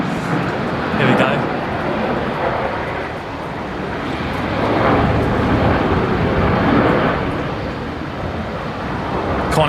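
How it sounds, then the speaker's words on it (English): A Qantas airliner arriving from Melbourne lands on runway 19 Left at Brisbane Airport, a broad, sustained jet roar that rises and falls across the clip, steady and fairly loud with a swelling rumble. "Qantas 622 just arrived there from Melbourne on 19 lefts"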